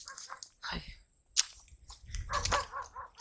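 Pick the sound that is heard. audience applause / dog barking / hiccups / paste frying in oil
dog barking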